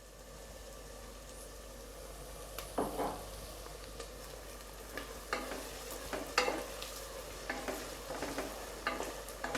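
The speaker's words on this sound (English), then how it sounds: "Keep frying till a stage where it is just before golden brown." Onions fry in oil for chicken biryani with a steady low sizzle, while a utensil stirs and scrapes the pan in irregular clattering strokes.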